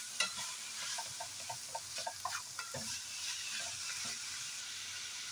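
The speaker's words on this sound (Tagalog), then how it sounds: "Sut-sut lang po natin hanggang mag-brownish siya." Shepherd's pie sauce stir-fried in a pan, a continuous sizzle under rhythmic scraping and tapping of a spatula against the pan, close up with no voices.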